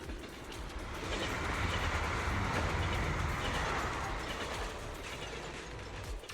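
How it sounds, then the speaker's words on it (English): A train rumbles past in the video game Zenless Zone Zero, a steady rolling roar with rhythmic clatter that swells in the middle and eases off, heard alone without voices. "The train will soon pass."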